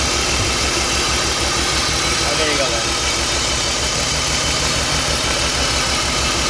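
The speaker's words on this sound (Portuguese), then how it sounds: "Deixa eu mostrar aqui o funcionamento do carro com vocês aí." A BMW 325 engine running at idle, a steady low mechanical drone with a faint knocking vibration, continuous and close, while someone talks over it.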